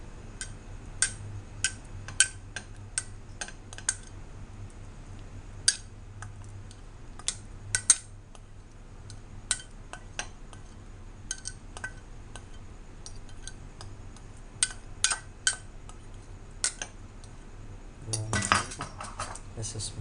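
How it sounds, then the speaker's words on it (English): Mango cream is mixed with sugar in a bowl, and a spoon clinks sharply and irregularly against the sides over about twenty seconds in a quiet room. "You just need to mix this a little bit longer with the ordinary sugar"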